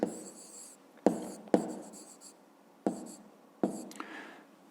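Pen writing on paper during a 5th-grade maths exercise: several short bursts of scratchy strokes, close and quiet, with brief pauses between them.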